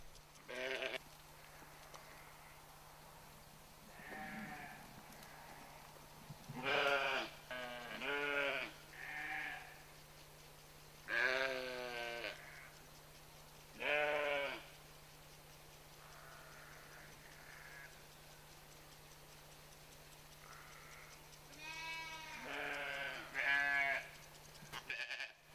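A nanny goat and her kids bleat on a farm, a series of wavering calls in scattered bursts, some single and some in quick pairs, close and clear against a quiet background with a faint steady hum.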